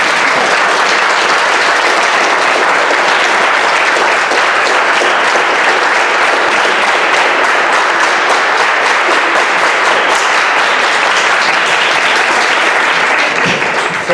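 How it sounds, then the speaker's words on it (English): A church congregation at a Baptist service claps continuously, a loud, dense and steady wash of applause lasting the whole stretch without a break. "Yeah, you can clap."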